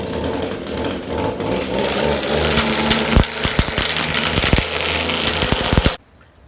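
Echo string trimmer's small two-stroke engine running loud and steady with a high buzzing whine, fluttering and surging in bursts before cutting off abruptly near the end.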